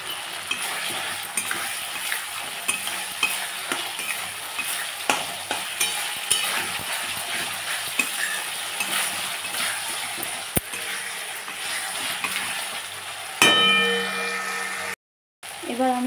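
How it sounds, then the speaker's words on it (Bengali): Chickpeas stirred and frying in oil-rich spice masala for a vegetarian taro-leaf dish, a continuous close sizzle with repeated scraping and clinking of a spoon against the pan, then a brief sharp burst of stronger frying near the end. "এবার মশলার মধ্যে আমি কিছু ছোলা দিয়ে দিচ্ছি, যাতে এটা সিদ্ধ হয়ে যায়"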